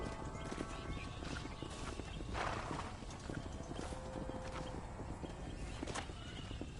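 Horse hooves clip-clopping in a steady walking rhythm in the video game Red Dead Redemption, with a brief whinny and faint background clatter, moderately loud and close.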